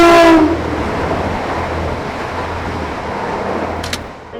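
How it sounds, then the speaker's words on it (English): A train passes on the Hull to Leeds line near Hillam Gates, south of Milford Junction, a steady broad rumble with a low drone and a brief horn-like tone at the start, a short high squeal near the end. "as the trains come out of the Hull to Leeds line"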